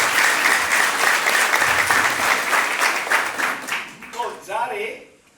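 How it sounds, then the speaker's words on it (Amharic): An audience at a network marketing event gives the company CEO loud, sustained applause that tapers off near the end, while a voice speaks over it. "እስቲ ለሲኢኦዋችሁ ሞቅ ያለ ጭብጨባ"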